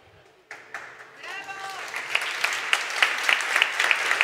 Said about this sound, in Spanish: No se aplaudan, más bien.